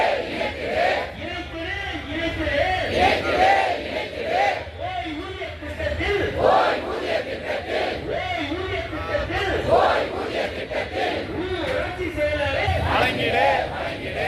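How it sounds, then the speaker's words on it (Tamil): Protesters in Saidapet, Chennai chant slogans against the DMK government, a loud crowd of rhythmic voices repeating in unison, steady throughout with a dense roar of many people close by. "திமுக அரசுக்கு எதிராக முழக்கங்களை எழுப்பிய போராட்டக்காரர்கள்"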